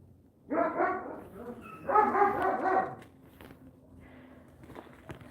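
A dog lets out two drawn-out, whining barks close by, each lasting about a second, followed by quiet shuffling.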